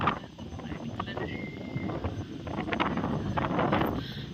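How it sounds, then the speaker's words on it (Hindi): Strong wind gusts across a home rooftop vegetable garden, a steady loud rushing roar with buffeting against the microphone, continuous throughout with faint rustling underneath. "बहुत तेज़ हवा चल रही है"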